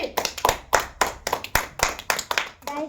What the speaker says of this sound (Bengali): সবাই একটা হাততালি